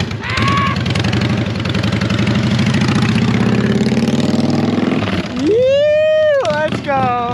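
A Harley-Davidson motorcycle engine idles with a steady, loud, throbbing rumble that runs throughout, while people talk excitedly nearby toward the end.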